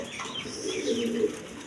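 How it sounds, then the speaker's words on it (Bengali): Farm-bred Mondain pigeons coo in a steady, low, rolling murmur that swells slightly midway, close by and continuous for under two seconds with no voices over it. "এটা মন্ডিয়ান খামারি কবুতর"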